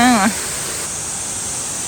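A waterfall in Japan pours with a steady, broad rushing hiss that holds even for the whole stretch, heard after a brief spoken voice at the very start.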